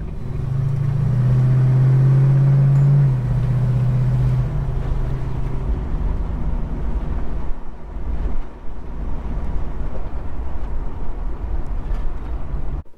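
A Holden HK car engine running with lagging power while driving, giving a loud, steady low rumble with a strong droning tone early on that fades into continuous road and engine noise, no talk.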